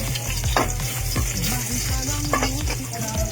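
Food being stir-fried in a pan, loud and close, with steady sizzling under repeated scraping strokes of a utensil against the pan.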